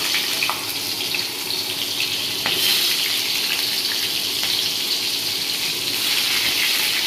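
Quartered onions drop into hot oil for village-style chili chicken, giving a steady, fairly loud broadband hiss that swells slightly partway through and carries on evenly, with no voices.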